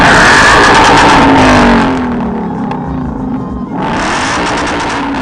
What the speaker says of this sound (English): This is a 2015 Mustang GT. Rev it up!